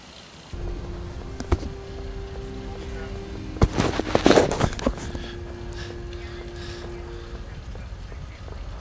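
Robot gunfire in Fallout 4 near Hangman's Alley: a sharp burst of shots and blasts hits mid-clip over steady game ambience and a low hum, with scattered single cracks before and after.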